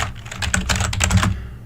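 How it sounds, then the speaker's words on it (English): Rapid typing on a computer keyboard while setting up paper trading in thinkorswim, a dense run of close, crisp key clicks with a few louder strikes, no voices. "and then just type in hi"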